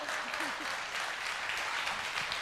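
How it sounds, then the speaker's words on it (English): Weak audience applause after a stand-up joke, a thin, steady patter of clapping lasting a couple of seconds with faint voices murmuring underneath. "That's a pity clap, because that was weak"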